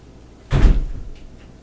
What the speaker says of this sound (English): Bang on the goddamn door like that.